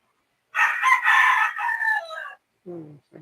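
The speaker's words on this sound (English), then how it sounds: "You can hear the chickens because it's morning." A rooster crows once, loud and close, a long drawn-out call on a morning in Cebu, Philippines, followed by a short lower cluck or squawk.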